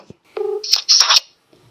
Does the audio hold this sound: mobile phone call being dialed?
yes